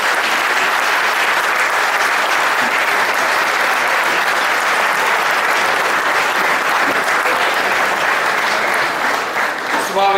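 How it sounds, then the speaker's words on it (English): Sustained audience applause fills a hall at Yamaha's EICMA 2017 motorcycle presentation, dense steady clapping throughout, loud and close, with a voice faintly over it near the end. "Ladies and gentlemen, a big round of applause please"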